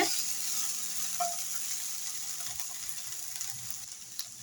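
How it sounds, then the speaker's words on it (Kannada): Okra sizzles steadily in a hot pan, a dense continuous frying hiss with faint crackles and one brief clink, close and fairly quiet, with no talk. "ಇವಾಗ ಚೆನ್ನಾಗಿ ಫ್ರೈ ಆಗ್ತಾ ಇದೆ"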